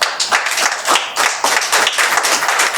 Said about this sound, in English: please help me to give him a round of applause